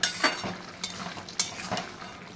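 Potato and taro curry gets stirred in a pan, a quiet simmering hiss broken by several irregular spoon scrapes and soft knocks against the pan, close by, with no talking.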